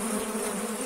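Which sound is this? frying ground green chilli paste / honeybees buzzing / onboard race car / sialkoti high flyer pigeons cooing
honeybees buzzing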